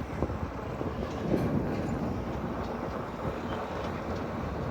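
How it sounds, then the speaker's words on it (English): A train rumbles past nearby at the Grand Canyon, a steady broadband roar with wind buffeting the microphone throughout. "We're train chasing."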